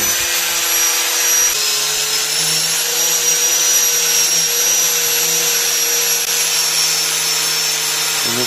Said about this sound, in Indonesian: Kemudian setelah itu kita langsung menggunakan gerindanya